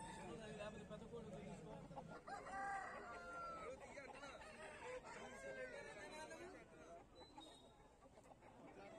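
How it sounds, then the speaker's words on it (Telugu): A rooster crows at a busy Sunday pet market, its call rising over clucking fowl and the murmur of people talking nearby, faint and mixed into the crowd noise. "యాభై పెద్ద కోడి"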